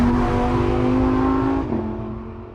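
A Lamborghini Huracán V10 engine revs hard with a steady, loud, high-pitched howl that holds and then drops in pitch as it eases off, with no talking over it.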